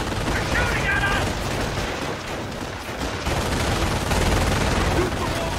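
Continuous gunfire rattles through a Company of Heroes battle at Vierville, dense overlapping rifle and machine-gun bursts with no pauses, loud and close under the noise of the fight.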